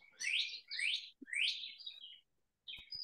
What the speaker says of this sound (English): We can hear the birds chirping.